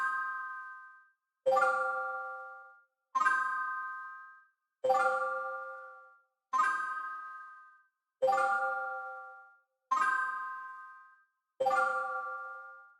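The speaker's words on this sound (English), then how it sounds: "Then for the next thing I had Serum and I used the Trooper bells." Synth bell chords from Serum's Trooper bells preset strike eight times at an even, slow pace, each chord ringing bright and decaying before the next, alone with no voice.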